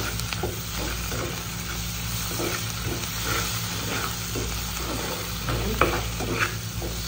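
Tomato paste is stirred into noodles in a hot pan, giving a constant dense sizzle with soft scraping strokes of a spoon throughout. It is close and steady, with no talking.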